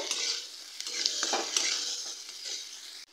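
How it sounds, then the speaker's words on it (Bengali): Chopped onion fries in a pan of oil while cooking rohu fish curry, giving a continuous sizzle with light stirring sounds, close by and with no talking. "পেঁয়াজটা ভেজে নিয়েছি"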